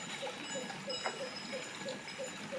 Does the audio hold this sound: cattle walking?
yes